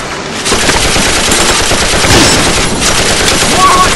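Dense, loud machine-gun fire rattles continuously in a battlefield scene, sustained bursts of rapid shots blending into a constant crackling roar.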